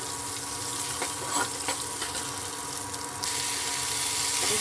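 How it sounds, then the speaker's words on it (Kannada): Onion and curry leaves frying in a pan give a steady, close sizzle with watery hiss throughout, rising slightly louder near the end. "ಈಗ ಈರುಳ್ಳಿ, ಕರಿಬೇವು ಹಾಕ್ಕೊಂಡು ಸ್ವಲ್ಪ ಮಾಗಿಸ್ಕೊಳ್ಳೋಣ."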